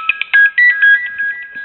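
An iPhone text message notification chime plays as an SMS arrives: a short sequence of bright, clear electronic tones, loud and close, with no voice over it.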